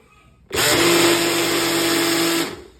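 An Abuler RY-01 personal blender whirs loudly for about two seconds in a single burst, starting abruptly and then winding down.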